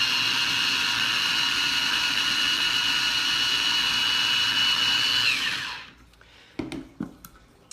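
Coconut flour and baking powder mixed in a covered container by an electric mixer, a loud steady whirring drone that winds down and stops, followed by a few light knocks and taps.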